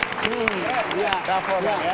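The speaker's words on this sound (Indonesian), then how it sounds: "Luar biasa tepuk tangan." Short burst of audience applause in a television talk-show studio, with clapping blended under singing or tonal voices throughout.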